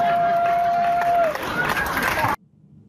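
An audience cheers and hollers in a played recording of a speech: a broad, steady crowd roar lasts over two seconds, with a thin sustained tone running through it, then cuts off abruptly.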